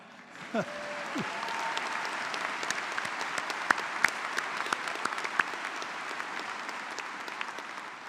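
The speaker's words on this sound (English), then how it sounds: "Yeah, somebody clap." A university commencement crowd breaks into steady applause, many hands clapping densely and continuously at moderate distance for several seconds.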